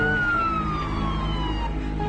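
A police car siren wails with a slowly falling tone, loud and continuous across a short stretch, with traffic rumble beneath and no voices.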